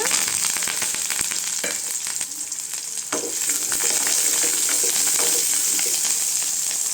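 Onion and curry leaves fry steadily in a pan for a coriander chutney, a bright continuous sizzle with occasional stirring scrapes, close and loud with no talking.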